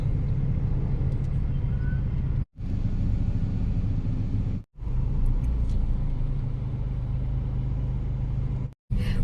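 Heavy road traffic on a diversion road in Lemery, Batangas, heard as a steady broadband engine and tire rumble from inside a vehicle, fairly loud and continuous with brief sharp cutouts, no voices.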